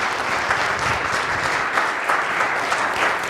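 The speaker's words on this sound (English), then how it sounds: "give her a round of applause" Audience applause at a spiritual community gathering, a dense, loud and even wash of many hands clapping close by, with no voices over it.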